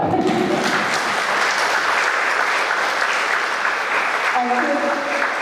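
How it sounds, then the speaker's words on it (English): A seated audience at a public meeting of the Maryland Commission on African American History in Baltimore claps steadily for several seconds, a dense, even wash of hands with voices rising faintly underneath. "Give us a hand clap."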